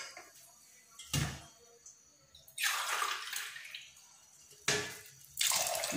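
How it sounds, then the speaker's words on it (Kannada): Water poured from a vessel into a pressure cooker holding soaked chana dal, heard as several separate splashing pours with short pauses between them, close and fairly quiet in a kitchen. "ಒಂದು 2 ಕಪ್ನಷ್ಟು 2 ಲೋಟ ನೀರು ಹಾಕ್ತಾ ಇದ್ದೀನಿ."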